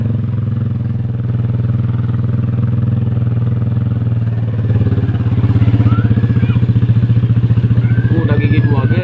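A motorcycle engine runs steadily and close as it is ridden through the gears, the rumble swelling and pulsing louder partway through, with people talking over it.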